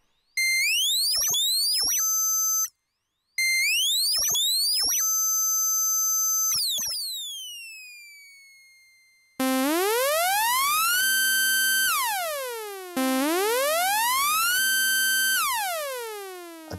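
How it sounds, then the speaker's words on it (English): An Arturia SQ80 V software synthesizer patch plays bright, bell-like digital tones with swooping pitch glides and sweeping chirps. Rapid repeated stabs give way to long, rich sustained notes that slowly fade, all loud and up close with no voices. "Oh, listen to all those little digital bits and bobs in that."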